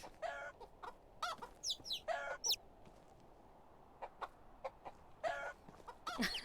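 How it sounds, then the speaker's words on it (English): Baby chickens clucking and peeping in the Medieval Dynasty video game, a series of short, bright chirps and clucks in irregular bursts, fairly close and alone against a quiet background. "Hi, baby chickens."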